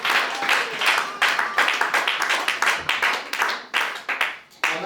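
A church congregation breaks into applause, dense overlapping hand clapping in rhythmic waves, fairly close and loud, with a voice briefly audible underneath.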